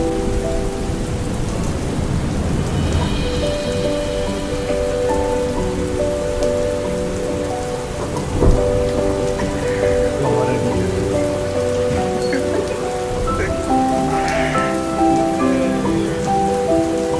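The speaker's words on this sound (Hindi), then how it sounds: "जब से यहाँ आया हूँ लगातार बारिश ही देख रहा हूँ।" Heavy, steady rain falls in Joshimath in the Uttarakhand Himalaya, a dense continuous wash of drops on surfaces with a low rumble of thunder partway through, no voices.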